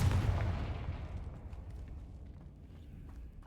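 A Confringo fire spell blasts off in the Hogwarts Legacy video game, giving a single loud burst at the start that rumbles and decays into a low, fading tail, with no talk over it.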